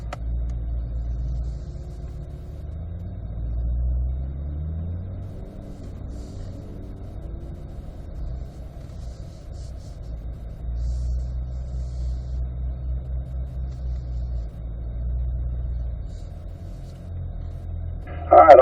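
Race cars on a track pull away for a warm-up lap, a low engine rumble and drone rising and falling steadily from inside a car, with little else heard.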